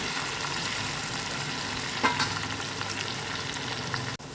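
Green chilies, with ginger, frying in hot oil for a green mango pickle, giving a loud, dense, continuous sizzle throughout, with a faint stir partway through and a brief sharp knock near the end.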